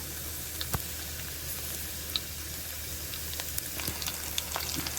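Garlic sizzling and frying in a hot pan during home cooking, a steady crackling hiss with occasional sharp pops and stirring scrapes, fairly close and continuous with no talking.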